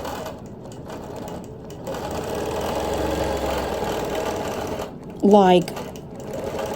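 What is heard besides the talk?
sewing machine quilting a log cabin quilt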